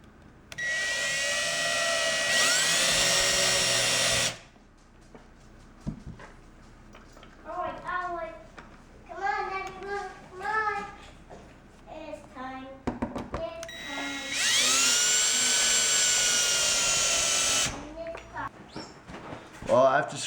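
A power drill drives screws into small wooden boards for a homemade water table, with two long, loud whirring bursts separated by a quieter stretch of talking and clatter.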